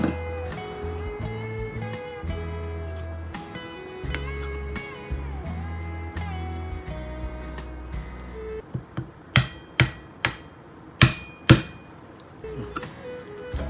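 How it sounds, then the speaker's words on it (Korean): After a stretch of steady background music, a mallet knocks a woodworking chisel several times: sharp, distinct wooden strikes spaced a moment apart, close by, the first two clear and ringing, the later two slightly duller. "앞에 2번의 망치질을 할 때는 맑은 소리가 났고 뒤에 2번의 망치질을 할 때는 약간 먹는 소리가 났을 거예요"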